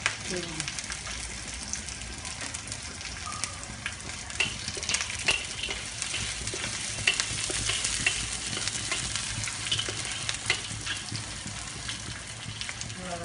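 Biryani ingredients with big chillies frying and being stirred in a pot, a loud, close, continuous sizzle with scraping stir strokes throughout.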